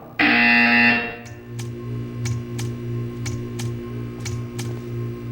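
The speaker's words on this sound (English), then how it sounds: "You will hear a buzzer." Loud, harsh electronic buzzer from the Portal 2 video game, about one second long, followed by evenly spaced clicking ticks over a steady low mechanical hum.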